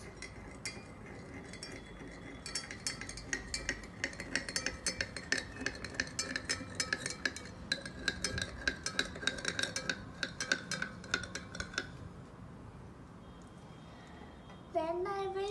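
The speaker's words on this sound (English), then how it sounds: "I will mix it very well until it dissolves." A spoon stirring a mixture in a glass for a school science experiment, rapid repeated clinking and scraping against the sides for several seconds, fairly faint, before stopping near the end.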